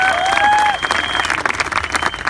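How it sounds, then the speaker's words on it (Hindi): An audience at a stage event breaks into loud, dense applause, a steady wash of many hands clapping together close by, with a brief tone sounding near the start. "A very big round of applause for Mr. and Mrs. Saxena."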